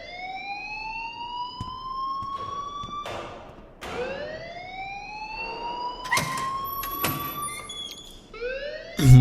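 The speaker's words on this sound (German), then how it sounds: "please turn off that alarm since that's your job" Fire alarm in the video game Life is Strange, a loud repeating electronic wail with rising sweeps that keeps sounding alone, broken by a few sharp thuds.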